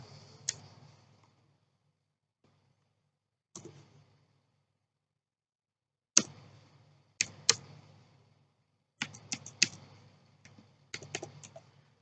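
Typing a username on a computer keyboard, with sparse close key clicks coming in short bursts separated by silent pauses, growing into quicker clusters of taps toward the end.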